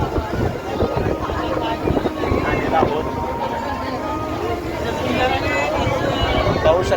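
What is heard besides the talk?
boat ride on the sea at Kanyakumari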